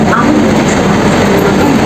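A continuous loud rumble and rattle from inside a crowded, moving passenger train, close and unbroken for the whole stretch.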